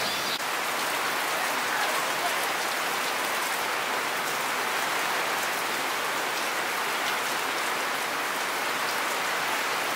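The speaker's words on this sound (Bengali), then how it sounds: "অনেক বৃষ্টি, ইতিমধ্যে অনেক বৃষ্টি নেমে গেছে" Heavy rain pours steadily on a village during a storm, a dense, even hiss of drops hitting surfaces that stays loud and unbroken throughout, with no voices.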